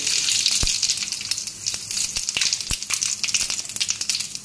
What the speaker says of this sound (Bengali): এই যে জিরে আর শুকনো লঙ্কা তেলে দিয়ে দিলাম।